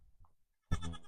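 A goat on a farm lets out a single loud bleat after a quiet stretch with faint low rumbling, the call close to the microphone and lasting about half a second.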